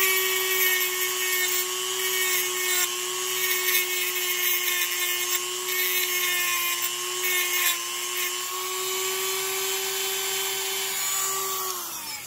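Metal tooling smooths the back of a spoon ring, a steady, fairly loud high whine held for about twelve seconds before winding down at the end.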